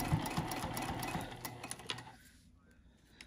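Sewing machine stitching a vinyl seam for a pencil pouch or card wallet, running in a steady continuous whir for about two seconds before stopping and leaving near silence.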